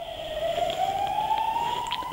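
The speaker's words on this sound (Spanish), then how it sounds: "La ambulancia." Ambulance siren wailing in a single long tone that slowly rises in pitch, heard alone at moderate distance without any voices.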